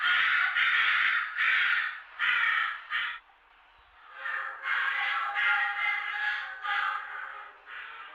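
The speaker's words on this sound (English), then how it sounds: "That sounds like a crow stuck in a drain pipe to me." Harsh, crow-like bird caws come in a rapid series of rasping bursts, loud and close, pausing briefly once before the calls resume.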